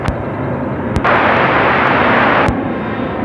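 An airplane rolls for takeoff on runway 34 right at Seattle-Tacoma International Airport, a loud, broad jet engine roar that swells in and holds steady, with a few sharp clicks breaking in and no voices.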